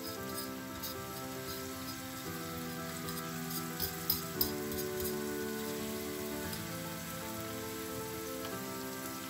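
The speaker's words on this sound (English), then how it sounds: "we have to fry this garlic and onions." Garlic and onions fry in olive oil, giving a steady crackling sizzle with scattered pops and ticks, continuous and moderately close, with a faint background tone underneath.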